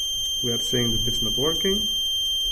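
A Ruptela vehicle tracking unit with an iButton driver-identification reader connected gives off a continuous high electronic beep while someone talks over it.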